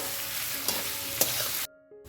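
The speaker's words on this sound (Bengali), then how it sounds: "দেখো পেঁয়াজটা আমার ভাজা হয়ে গেছে" Onions for a mutton curry fry in a pan with a loud, bright sizzle and two sharp stirring knocks, then the sound cuts off abruptly near the end.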